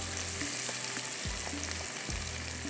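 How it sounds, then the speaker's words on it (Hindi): Chopped onions frying with garam masala in a pan, a steady close sizzle with occasional stirring scrapes and soft crackles, no talking. "गरम मसाले के साथ प्याज को थोड़ा सा हम करेंगे फ्राई।"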